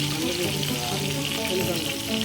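Ginger sizzles in hot oil as tempering for a country chicken curry cooked outdoors near a temple, a dense continuous frying crackle with some stirring, heard close and alone.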